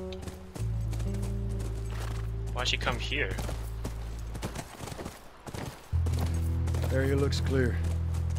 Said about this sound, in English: Look, by the ranch! That's our horse.